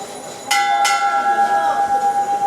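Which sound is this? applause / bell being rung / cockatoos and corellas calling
bell being rung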